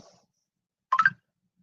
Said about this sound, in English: Phone had to chime on that one